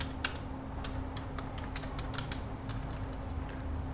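Computer keyboard keys clatter in quick, irregular bursts of close, crisp taps over a low steady hum, with no talking.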